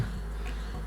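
Carniolan honeybees buzz at a hive in a steady, close drone, a continuous low hum with no voices.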